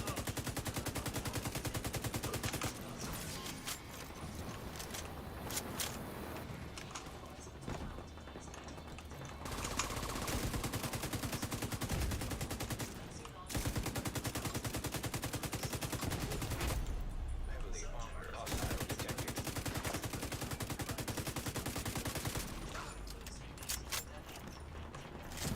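Rapid bursts of gunfire crackle almost continuously for most of the span, briefly dropping out at a few points before resuming, with no talk over it.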